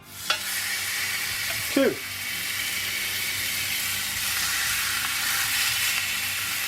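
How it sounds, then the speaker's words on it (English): Steaks sear in hot garlic stir-fry oil, making a steady, fairly loud sizzle with a couple of brief clatters near the start, while a voice speaks briefly. "Now we're going to throw our steaks in and get a good sear on them"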